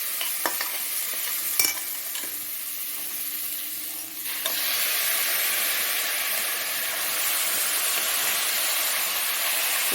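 Washed chicken pieces tossed into a hot pan for a hariyali chicken gravy, a steady broad sizzle that grows louder midway, with a few spoon knocks against the pan as it is stirred, close and continuous, no speech.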